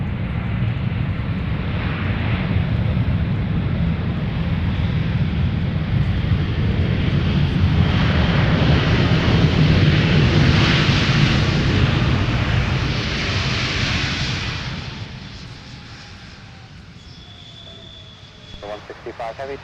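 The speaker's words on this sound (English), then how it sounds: "Even the A330-900 is loud." An Airbus A330-900 airliner at Minneapolis–St. Paul airport gives a loud, sustained engine roar that swells and then fades over about fifteen seconds, with radio chatter near the end.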